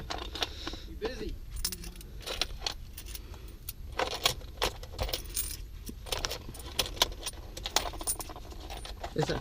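Loose quarters jangling and clinking while the interior of a Nissan 300ZX is stripped out, a run of sharp metallic rattles over rustling and handling noise, with people talking nearby.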